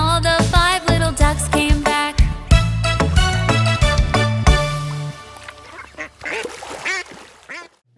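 A singer imitates a duck in a children's nursery song, with a run of rhythmic sung quacks over bouncy instrumental backing that fades out near the end.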